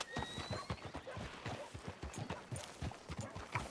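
Horse hooves clip-clop steadily in Red Dead Redemption 2, a rhythmic run of close, fairly loud hoofbeats on a town street, with an occasional neigh and faint background sound.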